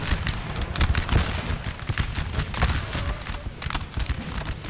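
French soldiers fire muskets in Napoleonic Total War 3, a dense, ragged fusillade of overlapping shots crackling continuously across a battlefield, loud and busy with no clear gaps.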